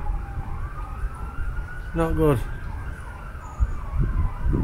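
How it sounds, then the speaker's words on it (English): A wailing emergency vehicle siren rises and falls in the distance, over gusty, windy outdoor noise during a storm, while someone speaks briefly nearby. "Sorry about the sirens, but obviously something's gone off."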